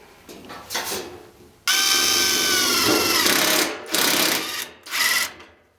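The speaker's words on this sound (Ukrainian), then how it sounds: "давайте попробую, як працює з саморізом по металу" A Ronix 280 N·m impact driver drives a self-tapping metal screw in bursts: a brief whir, then a long loud hammering rattle for about two seconds, followed by two shorter, close-up impact bursts.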